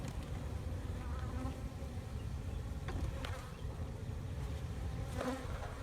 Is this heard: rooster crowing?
no